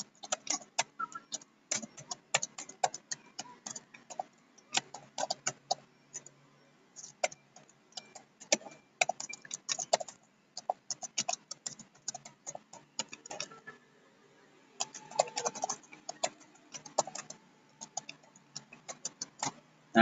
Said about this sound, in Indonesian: Kita langsung mengetik saja.